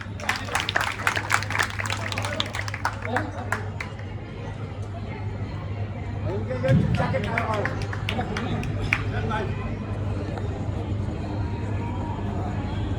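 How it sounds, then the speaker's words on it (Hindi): Audience at a wedding gathering clapping in a dense, steady patter that runs through the clip while voices and chatter carry on over it. "तालियां इनके लिए बनती है"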